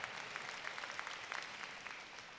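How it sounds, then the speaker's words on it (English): A graduation ceremony audience at a community college claps briefly, a faint, distant patter of scattered hands that fades away quickly. "Please applaud that."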